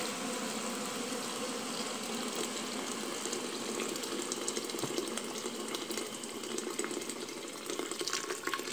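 Hot water pours steadily into a pressure cooker over brown rice, a continuous close gush of liquid filling the pot without a break.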